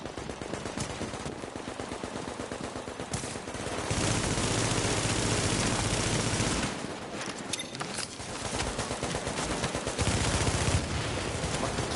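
Automated turret gunfire in the shooter The Division: continuous rapid machine-gun bursts, loud and close, rattling almost without pause across the whole stretch, with brief lulls and louder peaks.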